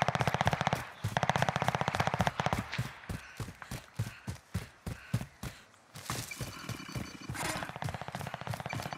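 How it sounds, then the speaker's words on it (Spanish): Sniper rifle fire in a multiplayer shooter game, heard as a string of sharp, evenly spaced shots with a distant, echoing quality, separated by brief gaps, and no voices over them. "El tipo disparando con un sniper."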